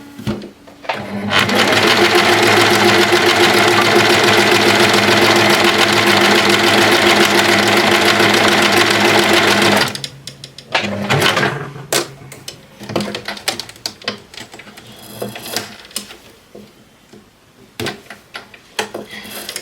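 An Empisal sewing machine stitches zigzag with the tension dial at 3, running loud and steady for about nine seconds, then stopping into scattered close clicks and handling knocks.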